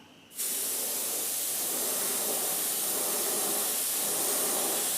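Sepia paint sprayed onto a crankbait lure, a sudden onset of steady, even airbrush hiss that continues alone and unbroken at close range for several seconds.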